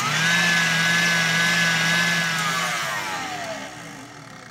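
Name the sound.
electric mixer whisking egg whites to stiff peaks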